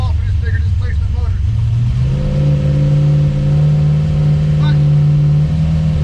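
A nitrous LS-swapped Chevrolet Vega V8 accelerates loudly nearby, its engine tone rising and then holding a strong steady drone, with a brief spoken word near the start.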